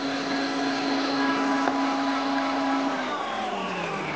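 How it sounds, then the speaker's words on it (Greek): An electric mixer with a whisk attachment beats cake batter for an upside-down cake with caramelized peaches, a steady close whirring drone that winds down as the mixer is switched off near the end. "σταματάμε το μίξερ."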